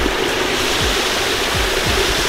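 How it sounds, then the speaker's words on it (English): Old water from a large backyard fish pond with a waterfall pours steadily through a small drain hole into a well, making a continuous close rushing, gurgling flow with no voices. "So all the old water goes in this little hole right here"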